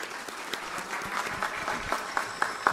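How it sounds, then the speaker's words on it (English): An audience applauds the panelists after an energy venture capital session, scattered clapping with distinct individual claps, fairly close and continuing steadily through the moment. "Please, another round of applause for the panelists."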